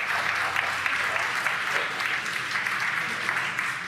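Crowd cheering and applause at a Falcon 9 booster landing touchdown: a dense, steady roar of clapping and cheers that holds for the whole stretch without a break.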